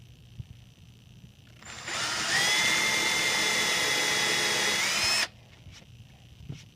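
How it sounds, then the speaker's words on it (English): Close by, a power drill bores a pilot hole into a wooden board, whirring for a few seconds, ramping up before holding a steady high motor whine, then cutting off sharply into quiet. "I'm just going to go ahead and drill, and I just need to get it kind of started"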